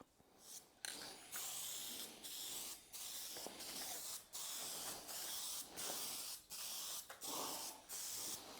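A spray can laying a second coat of paint on a part from a 101-year-old BSA motorcycle, with about ten steady hissing bursts close by, each a second or so long with short gaps between.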